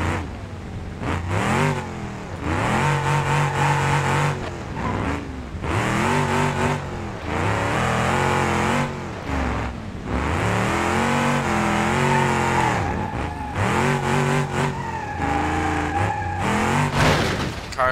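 A car engine revs hard in a Tokyo drift driving game, with repeated climbing pitch sweeps broken by sharp lifts and gear changes, loud and close throughout with no talk.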